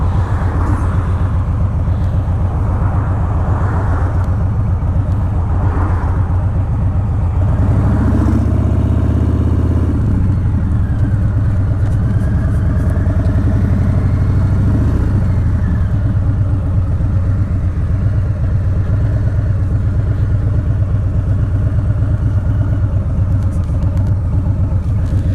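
Loud and close, a 2020 Harley-Davidson Low Rider S with a Stage 1 upgrade rumbles steadily, rising into a few throttle blips before settling back into its deep idle.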